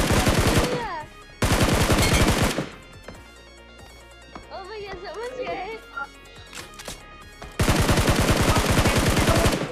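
Gunfire from a BGMI mobile battle royale match as a bot is killed: two dense bursts of rapid automatic shots, a quieter gap with scattered game sounds, then a final loud burst, close and sharp.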